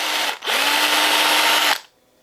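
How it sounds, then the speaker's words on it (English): Power drill boring a slot in a crankbait fishing lure: a loud, steady whine stops briefly, restarts and runs for over a second, then cuts off into quiet. "I had to cut a slot in it, get it out, so now I gotta refill that slot and re-drill the"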